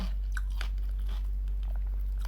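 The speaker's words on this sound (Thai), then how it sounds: "กินน้ำพริกกับไข่ อืม อร่อย" Someone eating chili paste with egg, close chewing and a few crisp crunchy bites over a steady low hum, with no talking.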